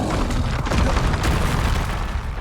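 A Reducto blasting spell going off in Hogwarts Legacy, a heavy, rumbling boom with a dense low-end roar that sustains loudly throughout, with no voices over it.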